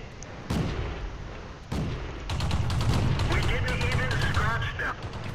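T1 Cunningham tank firing its cannon in the World of Tanks game, with a few heavy shot impacts followed by a rumbling stretch of battle noise and mechanical whine at moderate volume.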